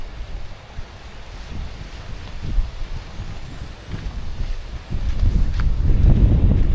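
Strong, dry wind buffets an outdoor microphone, a steady low roar that grows heavier and louder toward the end, with no talk.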